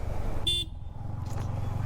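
One short, bright honk from a small vehicle horn sounds over a low engine idle, followed by faint rattling.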